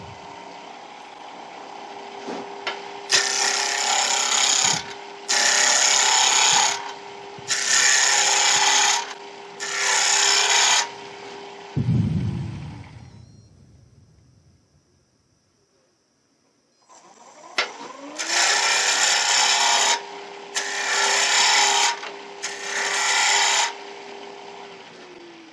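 A small wooden keyring piece turned on a lathe, with bursts of scraping as the tool cuts the spinning wood in rhythmic passes, a pause as the motor winds down, then more cutting bursts.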